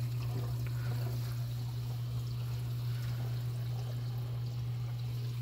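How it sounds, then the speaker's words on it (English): Steady broadband rush of water churned by a pump in a 72-gallon bowfront aquarium, constant and close, with a strong low hum running underneath throughout. "Put a pump in there a little ways back. Get the flow really going"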